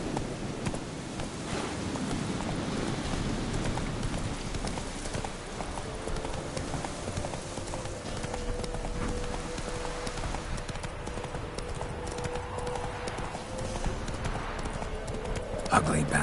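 Horse hooves clip-clop steadily under a continuous ambient bed as the horse Roach walks in The Witcher 3, with a voice speaking over the top.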